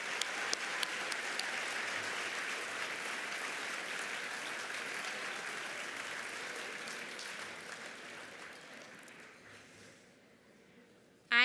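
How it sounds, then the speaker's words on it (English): An audience at the 2025 Night of Light program claps in a sustained, dense round of applause that holds steady for several seconds, then gradually thins before a sudden loud sound at the very end. "so we can thank you with a round of applause"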